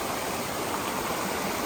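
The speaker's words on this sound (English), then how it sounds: "we've made it to our first creek crossing without a bridge" Ivy Creek rushes steadily along the Appalachian Trail in Shenandoah National Park, a constant, full hiss of flowing water and small falls close by with no voices.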